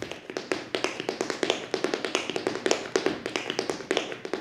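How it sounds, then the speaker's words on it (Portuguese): Heavy, percussive tap dancing, the sound coming entirely from the feet, produces a dense run of sharp, close taps in uneven bursts and steady rhythmic patterns, with no talking. "a gente trabalha um sapateado mais percussivo, ele é mais pesado"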